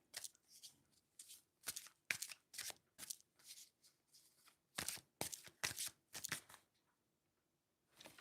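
Tarot cards being shuffled in quick repeated bursts of riffling, close and crisp, with short pauses between and a longer gap near the end.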